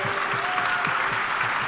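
A Chicago crowd at an Obama rally claps steadily, a dense, continuous wash of applause that stays even from start to finish, with no voices standing out above it.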